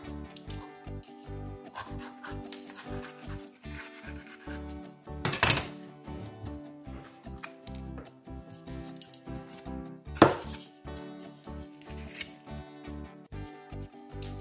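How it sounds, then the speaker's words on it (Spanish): A knife chops bell pepper and garlic on a board in quick, uneven strokes, with a few sharper knocks standing out above a steady musical background. "Y por último cortaremos el pimiento y los ajos."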